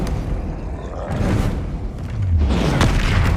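A Bombarda blasting spell explodes in the Hogwarts Legacy video game, heard as loud booming thuds with a rising rumble over a busy, dense game mix, no talk present.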